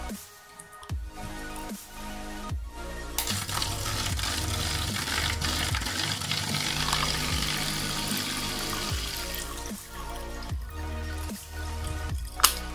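Water pours and splashes through a hang-on-back aquarium filter during setup, a steady close trickling wash with dripping and occasional splashy bursts, alone with no talk.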